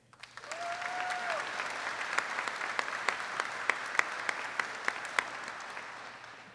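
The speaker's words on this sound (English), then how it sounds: "Please give a warm welcome and a round of applause to the families in attendance today." Audience applause fills a graduation hall for the families at a WOCS class ceremony, steady dense clapping with sharper individual claps poking out, fairly distant and even, with a brief tonal whistle early on.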